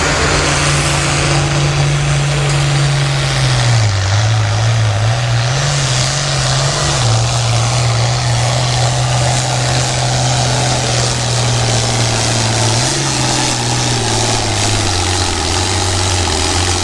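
A pulling tractor's engine roars steadily at a tractor pull, a loud continuous drone with a deep pitch that dips and wavers a few times over a wash of crowd and outdoor noise.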